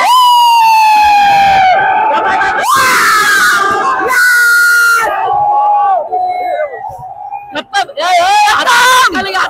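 A packed crowd greets Ganpati's arrival in Mumbai with loud, near, sustained cheering and high-pitched shouts and screams, rising and falling in waves with a few brief dips.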